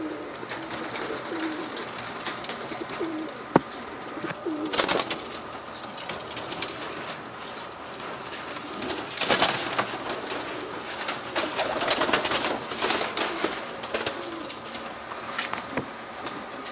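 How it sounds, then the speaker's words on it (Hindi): A pair of Shahjahanpuri pigeons coos softly and steadily against a faint background, broken by a few brief rustles and flaps of wings. "कबूतर जोड़ा है, शाहजहानपुरी पेयर है।"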